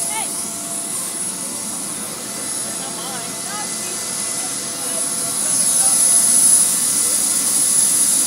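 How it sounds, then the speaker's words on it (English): A jet airplane engine roars steadily near the NASA Ames hangar, a broad continuous rush with a high whine rising and swelling louder toward the end. "There's our plane."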